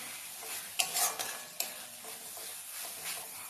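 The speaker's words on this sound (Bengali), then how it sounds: "এখন মশলাটা কষানো হচ্ছে" Chicken masala being fried and stirred in a wok, giving a steady close sizzle with scraping spatula strokes and a few sharper clanks of metal.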